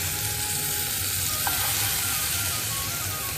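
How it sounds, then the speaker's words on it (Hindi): Bottle gourd fritters fry in well-heated oil, giving a loud, steady sizzle and crackle that fills the whole stretch without pause, close up and with no voices. "जहन तेल खूब नीक से गरम भऽ जेतै तहन ई की कहै छै, सजमनि के तरुआ एना के दऽ के एना के सबटा दऽ के"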